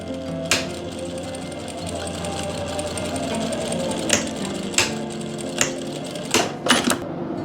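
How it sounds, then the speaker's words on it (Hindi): Steady close whirring of a sewing machine stitching a wide lace onto a dupatta, running continuously with a few sharp clicks and taps along the way. "अब मैं सिलाई लगाऊंगा इसकी"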